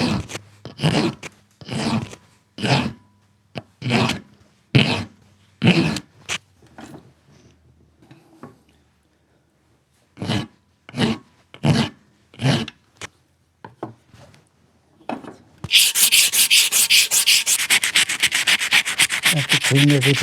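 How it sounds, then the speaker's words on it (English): Hand file cutting a radius into a steel part of a 1988 Hammer bicycle frame: about twenty distinct rasping strokes in two bursts with a pause between, then a steady hiss of broadband noise at the end. "I just take a file now and I file a little bit of a radius in there"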